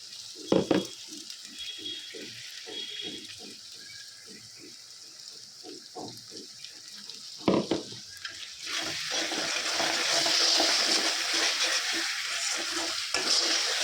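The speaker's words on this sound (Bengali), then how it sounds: "এটা ভালো করে যতক্ষণ না কষা হচ্ছে ততক্ষণ করেও নাড়তে হবে" Chili paste frying in a pan while being stirred and scraped, with a run of steady rhythmic scrapes that give way to a louder, fuller sizzle; close and fairly loud, with no talking.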